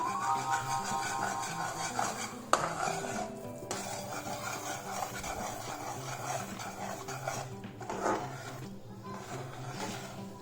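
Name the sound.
stirring semolina into melted sugar in a pan for rava ladoo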